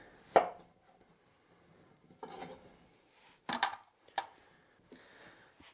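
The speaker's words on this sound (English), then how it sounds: "And just chop them in pieces." A knife cuts peeled potatoes into pieces on a cutting board, making a handful of separate chops and scrapes at close range in a quiet home kitchen.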